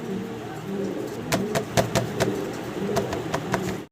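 A large pair of red fancy pigeons coos softly nearby, with a few sharp clicks and light shuffling over a low background hum.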